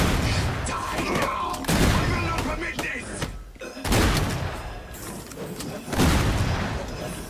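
Kaboom stick weapon in Killing Floor 2 fires in heavy booming blasts, three big low-end thumps about two seconds apart amid a dense clatter of game combat, with voices mixed in.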